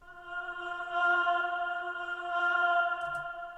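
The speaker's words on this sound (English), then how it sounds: "I have this reversed vocal, which I bring in every 8 bars" A reversed vocal sample in a music mix swells in as a smeared, sustained tonal pad that rises and falls gently, heard alone and fairly quiet, with a faint click near the end.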